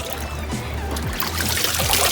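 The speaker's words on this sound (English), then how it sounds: "There's water coming out of here." Water trickles and dribbles out of a toy truck on an indoor play beach, a steady wet stream with low humming underneath and no speech.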